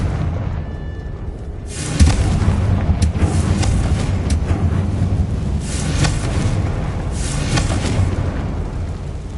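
Booming spell explosions in Hogwarts Legacy on PS5, the Confringo fire blast, with a heavy low rumble swelling around the two-second mark and repeated bursts over a continuous loud roar.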